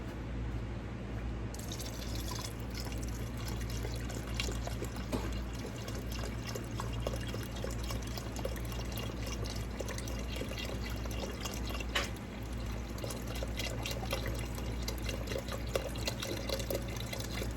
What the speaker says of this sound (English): then we'll go ahead and put in the chicken broth